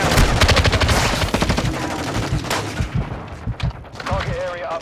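Dense rapid gunfire rattles through a shooter video game battle, automatic bursts stacking with heavy thuds and echoing impacts, loud and close, easing slightly toward the end as a tonal effect rises.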